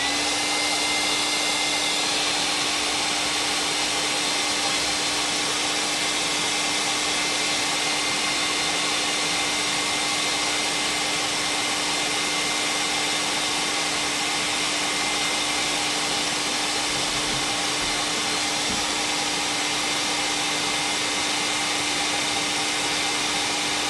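Hair dryer blowing on hair, a steady loud whirring roar with a constant motor hum running unbroken for the full length, no talk.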